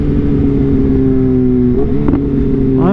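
A motorcycle engine hums loudly and steadily while riding, its droning tone holding an even pitch before shifting slightly as the throttle changes near the end.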